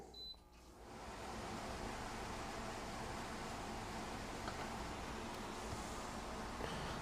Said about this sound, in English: I want to turn the fan down low